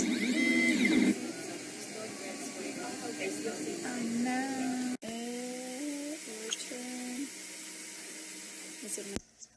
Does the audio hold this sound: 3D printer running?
yes